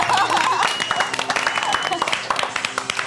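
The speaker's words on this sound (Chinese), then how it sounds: "掌声鼓励" A studio audience claps for a few seconds on a cooking show, a dense patter of applause with voices talking over it.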